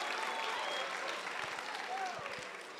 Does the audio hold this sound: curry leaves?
no